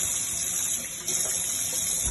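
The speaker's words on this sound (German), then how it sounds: "Ich spüle es ab einfach wieder" Water from a tap rinses a kitchen sink, a continuous close gush and splash of running water with no talking.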